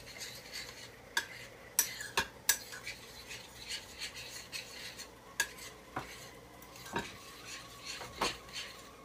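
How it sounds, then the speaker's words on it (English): Dry cake ingredients mixed in a bowl with a utensil, giving repeated scraping and clinking strokes against the bowl at an irregular rhythm, close and fairly quiet, with no talking. "now mix all of these dry ingredients together."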